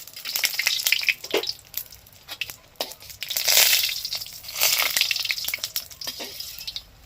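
Lentil badi (urad dal dumplings) sizzling and crackling as they fry in hot oil, with bursts of spattering hiss that swell and ease, plus occasional clicks of a spatula.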